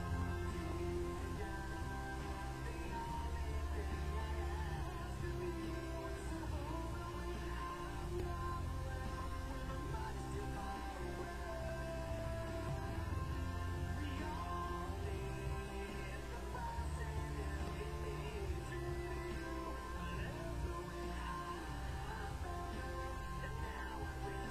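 Electric guitar strumming the third chorus of a song, a dense, steady full-band-like wash of chords sustained without break, loud and close with no talking.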